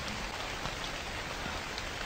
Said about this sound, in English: Very rainy, very loud.